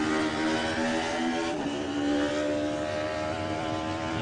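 A Davis Motorsport Honda racing motorcycle at the Classic TT lightweight race, a loud continuous high-revving engine whine that holds near and steady with a slight pitch dip midway.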